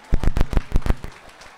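A short burst of about eight sharp, separate hand claps fades quickly at a Vietnamese-American community celebration of two bills benefiting the nail salon industry, as an award goes to Kathy Huynh's family.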